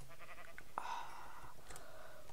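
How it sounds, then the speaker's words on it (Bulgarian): Sheep bleat faintly in a modded survival video game, with a couple of short, wavering calls over a quiet background hum. "Тук има овце обаче."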